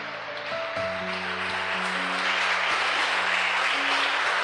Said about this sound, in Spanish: Dele un fuerte aplauso al Señor si es que usted lo ama.